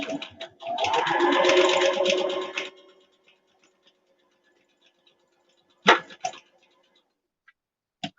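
A sewing machine backstitches the side of a fabric face mask in a close, rapid mechanical burst lasting about two seconds, followed by quiet and a few short clicks and taps.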